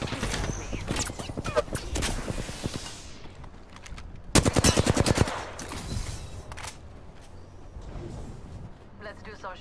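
Gunfire in the Apex Legends battle royale game: repeated shots and fast automatic bursts, with the heaviest rattling volley in the middle, over a constant bed of game noise and voices.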